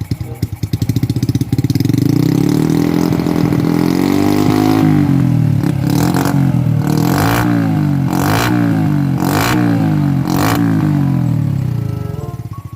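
A nearby Honda Wave 110i motorcycle engine with a 50 mm bore kit and aftermarket cam rumbles loudly, climbing in pitch, then revs sharply several times in a row before settling back down.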